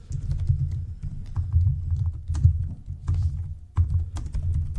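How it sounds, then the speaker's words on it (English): A computer keyboard being typed on close up, with bursts of rapid, uneven clacking keystrokes and brief pauses between them, carrying on for several seconds with no talking. "hear me typing"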